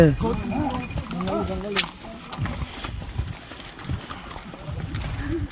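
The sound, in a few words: horse hooves clip-clopping while riding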